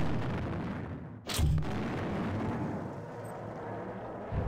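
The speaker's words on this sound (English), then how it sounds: "This is a heavy weapon. This is the fusion cannon." A single heavy blast from the fusion cannon in System Shock 2 bursts out loud and close, a short broadband boom over a steady game-world hum, then fades back to the ambient drone.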